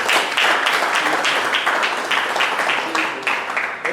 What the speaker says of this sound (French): il mérite les applaudissements de la salle